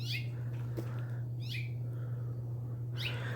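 A wild bird perched up high gives three short, clear whistled calls spaced about a second apart over a steady low hum, fairly faint and distant.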